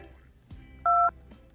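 Touch-tone telephone dialing while calling into a late-night radio show: a single clear two-tone DTMF beep of about a quarter second rises above faint background hum, with a brief thump just before it.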